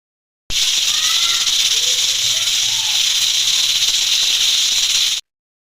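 A pressure cooker holding chickpeas and salt gives off a loud, steady steam hiss that starts abruptly and runs unbroken for about five seconds before cutting off.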